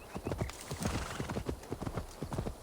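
Hooves of a donkey clip-clop in Assassin's Creed Valhalla, a quick, steady run of close, distinct hoofbeats over a soft outdoor background.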